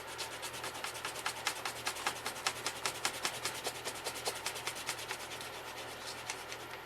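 Eraser scraps rubbed across a comic book in quick, rhythmic back-and-forth strokes, a soft close scratching pulse repeating steadily for several seconds with no talk.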